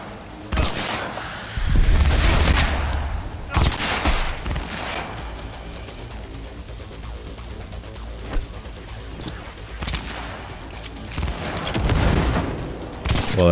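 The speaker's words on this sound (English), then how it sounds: "I'm not very good at sniping with a pistol." Pistol gunfire in Cyberpunk 2077 comes as bursts of sharp, loud shots at roughly two-second intervals over a busy game soundscape, with no voices.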